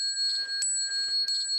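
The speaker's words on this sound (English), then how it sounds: "I'm going to ring the bell 3 times" A Buddhist ceremonial bell rings twice during a bowing ritual, each strike sharp and bright with a long sustained metallic hum, close and clear in a quiet room.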